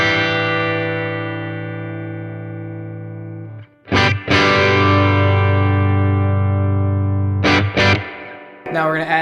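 Electric guitar played through a Monoprice/Harley Benton tube amp set to reverb, sustained chords ringing with a reverb wash and slightly driven tone, with two brief pauses and re-struck chords, loud and close.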